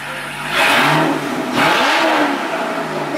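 A C6 Corvette Z06 with a Corsa Extreme exhaust gives two short, loud, close revs that rise and fall, then settles back to a low idle.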